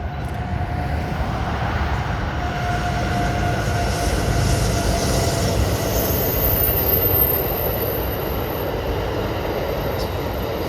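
Train number 7 races past the Mesa Arena parking lot with a loud, steady roar of wheels and cars. A faint high squeal and tonal hum sit over the rumble, which holds throughout and peaks midway.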